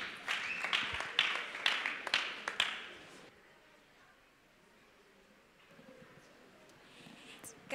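Church congregation clapping together during a Sunday service, a burst of fairly close claps lasting about three seconds before fading into quiet room noise.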